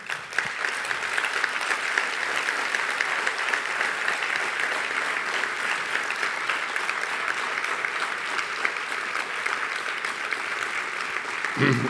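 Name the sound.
audience applause at congress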